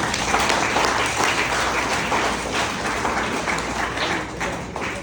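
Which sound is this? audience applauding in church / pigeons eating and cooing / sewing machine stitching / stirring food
audience applauding in church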